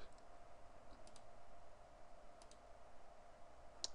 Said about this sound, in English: Left click for paste.